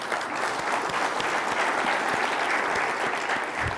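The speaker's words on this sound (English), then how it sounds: "let's give him a round of applause and welcome him to the stage" A conference audience at the 2019 Colorado State of Reform event gives a keynote speaker a welcoming round of applause, with loud, sustained, dense clapping that fills the room without a break.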